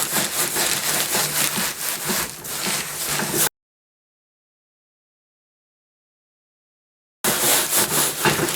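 Coarse salt being rubbed by hand into a deer hide, a steady close gritty scraping that runs for a few seconds, breaks off into silence, then resumes just as loud.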